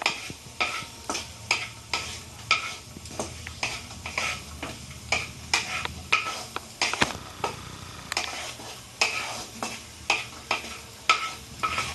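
Cashews roasting in a pan, stirred in a steady rhythm of repeated scraping strokes about once a second over a faint sizzle, close and moderately quiet, with no voices.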